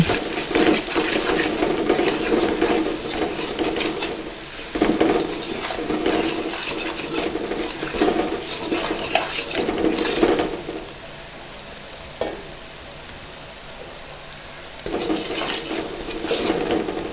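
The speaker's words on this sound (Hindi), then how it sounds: "खुश्क धनिया, अच्छे तरीके से फ्राई करेंगे" Dry coriander and garam masala fry in a pan for an egg and potato curry, with a crackling sizzle and repeated scraping and clinking of a spoon on the pan in bursts, alternating with quieter stretches of sizzle; no one speaks.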